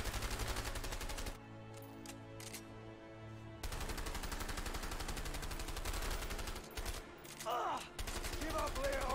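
Sustained automatic gunfire from the video game A Way Out rattles in rapid, loud bursts. A brief lull breaks it before the shooting resumes, and faint voices come through near the end.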